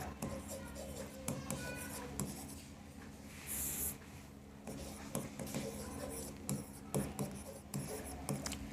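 Pen writing an accounting entry on paper during a trading-account lesson: close scratchy strokes in short irregular bursts with brief pauses between words, occasional soft rustle, no voice.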